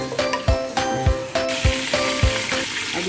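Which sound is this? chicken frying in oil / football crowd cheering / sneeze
chicken frying in oil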